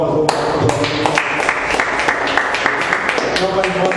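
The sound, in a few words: congregation applauding at end of church service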